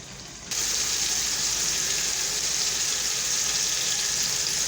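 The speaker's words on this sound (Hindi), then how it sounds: "इसको हम थोड़ा सा भूनेंगे" Mixed vegetables and potatoes fry in a pan for vegetable pulao, giving a steady, fairly loud hiss that jumps up after a brief quieter start and then holds evenly throughout.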